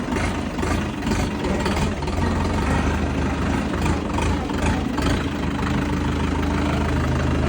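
A large Bulat 504 diesel tractor engine idling nearby, a steady low rumble with a faint rhythmic knock throughout.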